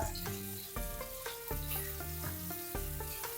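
Masala-marinated paneer pieces frying in hot oil, a steady crackling sizzle running under loud music with changing chords, no talking.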